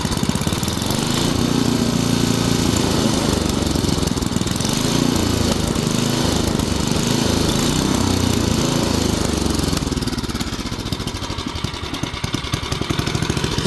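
Small engine on an old Murray Explorer go-kart revving hard and steady, loud and close, then the governor pulls the speed back and it drops to a rougher, choppier idle near the end.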